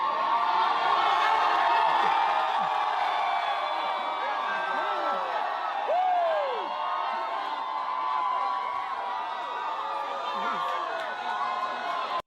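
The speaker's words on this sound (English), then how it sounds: "that's just people cheering" People at an election party cheer and whoop with steady crowd noise, many voices overlapping in a continuous roar with scattered shrill yells.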